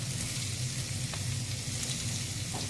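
Greens sizzling in a hot frying pan during breakfast cooking, a constant close crackle and hiss with a couple of faint clinks, no talking.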